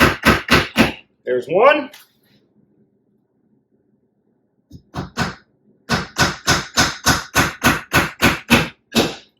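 Hammer blows drive nails into a wooden frame, with a quick triple set of strikes, a pause, then a long steady run of about a dozen sharp, close, evenly spaced hits, with brief speech in between.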